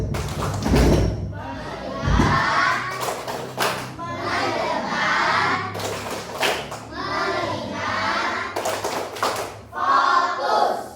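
A classroom of children performs a rhythmic clapping chant, with sharp claps and thumps set between bursts of chanted children's voices in a lively, patterned sequence.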